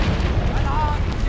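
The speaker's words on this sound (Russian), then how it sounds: "Взрыв! Бомба!" An explosion in a war film, a loud deep rumbling boom that fills the whole short moment, close and heavy with a rough low roar.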